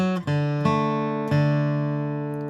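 Steel-string flatpicked guitar plays one measure of the fiddle tune Whiskey Before Breakfast: a few clean, ringing picked notes in a slow, even rhythm, close and alone, the last note left to sustain.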